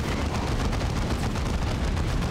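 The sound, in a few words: grenade launcher explosions in video game Dawn of War 2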